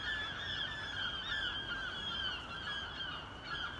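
Geese honk by the San Francisco Bay, repeated nasal calls overlapping continuously at moderate distance over a steady waterfront background hum, with no talk.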